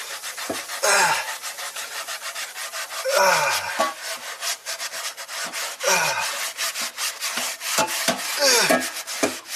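A rusty cast iron pan being scrubbed with baking soda and salt, heard as rough, gritty strokes in a repeating back-and-forth rhythm, close and fairly loud, with brief pauses between bursts.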